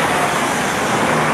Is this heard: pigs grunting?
no